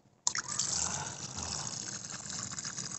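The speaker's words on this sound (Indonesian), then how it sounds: "membuka ya keran pembuangannya." An opened drain tap on a catfish pond filter tank releases water in a sudden gush that settles into a steady, close splashing and trickling flow, moderately quiet and heard alone.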